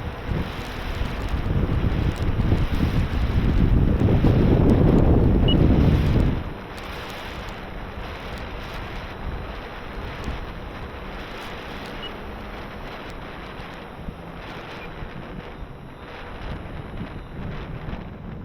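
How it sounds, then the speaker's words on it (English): Wind buffets a microphone at an RC plane flying field, a loud roaring rush for the first six seconds that then drops to a steadier, softer blowing with no voices. "before the wind gets too crazy"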